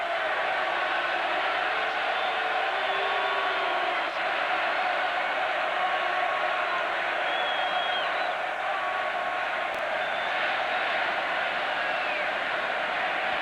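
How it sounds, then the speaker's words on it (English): A large Kingdome stadium crowd at a 1989 Broncos–Seahawks NFL game, its sustained roar and chanting of Elway's name carrying steadily from a distance. "And the chant of Elway. Elway starts up from the Kingdom crowd."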